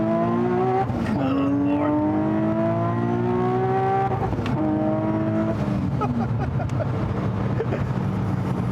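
A 700-horsepower supercharged Nissan 370Z screams as it accelerates hard through the gears, pitch climbing steeply, briefly dropping at each shift, then climbing again, loud and close.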